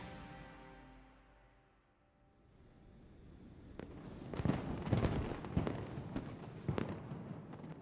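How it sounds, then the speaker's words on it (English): Fireworks in the video game Genshin Impact, a series of sharp bursts and crackles that start after a quiet lull and cluster loudly near the end, with faint footsteps between them. "The fireworks have started."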